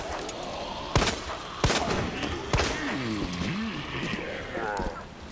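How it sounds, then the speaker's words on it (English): Gunshots in the video game Resident Evil 2 Remake ring out as three loud, evenly spaced blasts, followed by game sounds and rumble, with a player talking over the action. "they've been alerted by the gunshot sounds"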